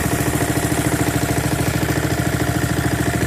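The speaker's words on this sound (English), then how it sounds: "You can also idle this down into low and it runs perfect right off the bat." A Honda HRX 217 lawn mower engine idles on low, a loud, close, steady chugging pulse with even rhythm and no talking.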